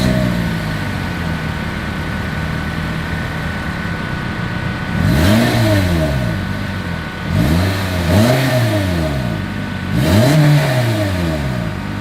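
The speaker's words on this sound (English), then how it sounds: "As always, here is that exhaust clip." A 2022 Toyota Corolla exhaust idling, then revved several times in quick sharp bursts that rise and fall back, loud and close, with no talking.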